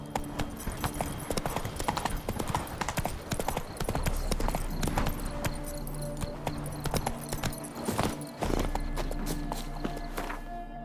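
Horse hooves gallop in The Witcher 3 video game, a rapid steady clip-clop close by that runs through the whole stretch, with gear rattle and faint ambient game sound beneath.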